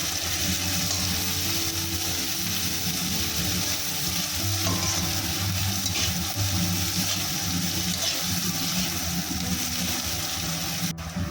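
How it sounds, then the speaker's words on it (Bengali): Onions frying in a pan for a raw-tomato fish curry, a steady, close sizzle with faint stirring noises running unbroken throughout, no voices. "পেঁয়াজটা ভাজা ভাজা করে নেব"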